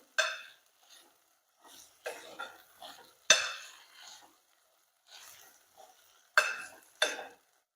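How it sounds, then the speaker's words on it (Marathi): Black-eyed peas stirred while roasting in oil, giving scattered scraping and clattering bursts of a utensil against the pan with faint frying between strokes and short quiet gaps. "चवळी तेलामध्ये भाजणं खूप इम्पॉर्टंट आहे"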